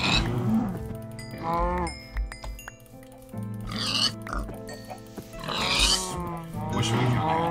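Pig-like grunts and squeals from farm animals being slaughtered in a Minecraft-style modded video game (Terrascape FTB), several short calls overlapping, heard under and between steady talk from a player.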